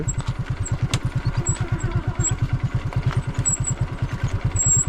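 A motorcycle in poor condition runs with a steady, throbbing low engine pulse that stays close and loud throughout, with no talk over it.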